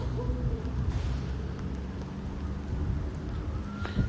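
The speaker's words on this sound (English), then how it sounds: "it's raining now here in Brentwood" Steady rain falling during a severe thunderstorm on Long Island, a soft continuous hiss with low rumbling underneath and no talking.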